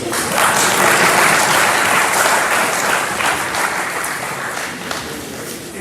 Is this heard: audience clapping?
yes